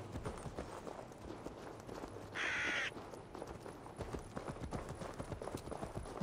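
Horse hooves clip-clop in Assassin's Creed Valhalla, a steady fairly quiet trotting rhythm that runs through the whole stretch, with a brief burst of game sound partway and no talk.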